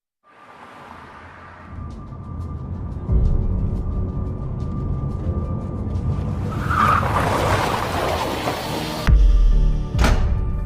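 Tires skid and screech loudly in a car crash scene from a TV insurance advertisement, with engine roar building throughout and a sharp impact burst near the end.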